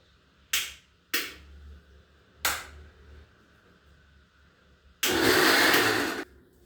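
A kitchen mixer grinder blends cooked spinach with onion, ginger, garlic and chili: a few sharp clicks and knocks first, then about one loud second of whirring motor.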